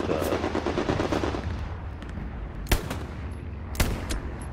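Gunfire in the Hell Let Loose war game: a dense rattle of rapid shots at the start fading into scattered fire, with two sharp louder single shots close by later.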